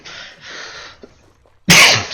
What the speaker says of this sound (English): I've got this cough that's going around at the moment